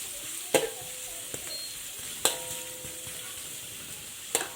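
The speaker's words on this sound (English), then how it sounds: "onion that we sliced earlier and cook until it brown" Sliced onions browning in a pan for an Indian-style red claw crayfish curry, with a low steady sizzle broken by a few sharp scraping clanks of a utensil against the pan.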